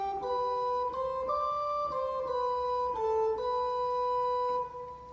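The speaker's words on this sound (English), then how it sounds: "Now the tune that Bach is utilizing sounds like this." Pipe organ plays a slow chorale tune that Bach uses, each sustained note changing at a steady, hymn-like pace in clear, continuous tone, without any speech.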